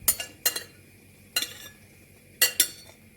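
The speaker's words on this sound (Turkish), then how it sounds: "ara ara karıştıracağım" A sugar paste mixture with melted marshmallows is stirred in a pot, with a few sharp utensil scrapes and clinks against the metal arriving in short, separated bursts over a quiet background.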